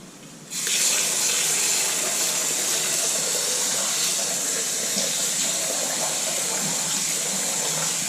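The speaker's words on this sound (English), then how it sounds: "instead of me just rinsing, pouring, rinsing, pouring, rinsing, pouring" Tap water runs steadily and loudly into a bowl as rice is rinsed for onigiri, a continuous gushing wash that starts abruptly and carries on without talk.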